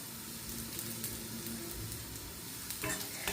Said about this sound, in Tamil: இப்போ நாங்கள் இந்த எடுத்து வச்சிருக்கிற கருவேப்பமில்லையே இதில் போடுவோம்.